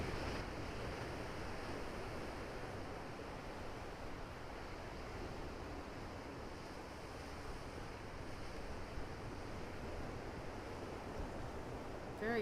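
Ocean waves wash onto a beach in a video game as a steady, broad surf hiss that stays even throughout, with a soft wind-like wash and no distinct breaks.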